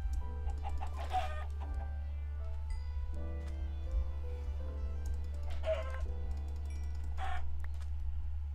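Chickens in the Minecraft video game give a few scattered clucks over a steady low hum, with faint clicking from play between them.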